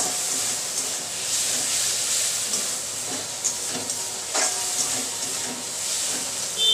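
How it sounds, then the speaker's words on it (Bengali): Masala spices fry in a pan with a soft, steady sizzle and hiss, fairly quiet throughout, broken by a few faint stirring scrapes. "মশলাটাকে ভালো মতন ভেজে নেব"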